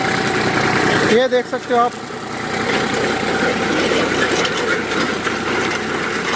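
A tractor engine idles in a field with a constant low rumble and vibration, close and fairly loud, as someone speaks briefly over it early on.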